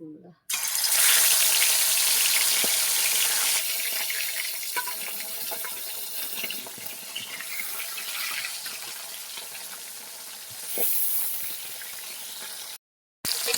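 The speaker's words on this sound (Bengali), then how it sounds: "তেলটা গরম হয়ে গেছে, মাছগুলো দিয়ে দেবো একটা একটা করে।" Pona fish pieces frying in hot oil give off a loud, steady sizzle that holds for most of the stretch and cuts out briefly near the end, with no talking.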